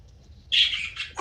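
Bird chirps and squawks on a model railroad layout set, a brief loud burst of chirping calls after faint background hum, ending with another sharp squawk.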